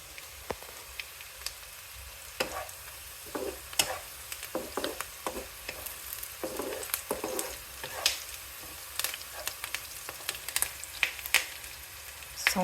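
Fish for fish pulusu frying in hot oil at medium-high heat crackles steadily up close, with irregular sharp pops and spits over a soft sizzle.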